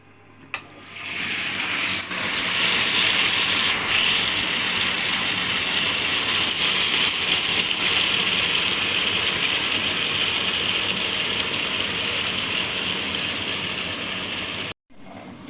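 A wet grinder churns soaked urad dal into idli batter with a loud, steady mechanical whirring and grinding that runs unbroken before cutting out abruptly near the end. No one speaks.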